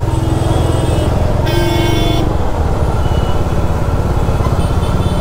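Heavy city traffic in Bangalore heard from a Dominar 400 motorcycle: a constant loud engine and road rumble, with one long car horn blast in the middle and several shorter toots around it.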